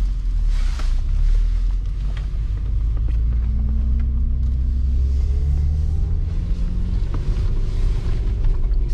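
A 1999 BMW M Coupe with its S52 six-cylinder and five-speed manual is under way on the road. Its engine gives a loud, steady low drone with rising tones as it pulls, and no one speaks.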